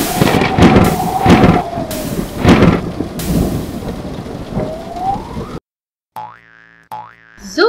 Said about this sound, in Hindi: तोय से तूफान.